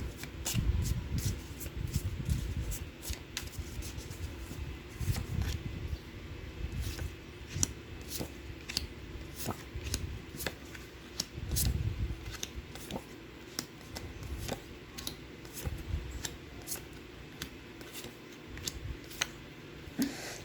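Tarot cards shuffled for a reading give a faint, steady run of soft riffling and snapping clicks that continues throughout, with no talk.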